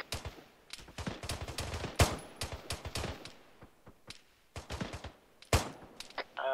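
Rapid bursts of automatic rifle and machine-gun fire crackle through a firefight in the military shooter ArmA 3, sharp close shots mixed with quicker distant volleys and short pauses between strings.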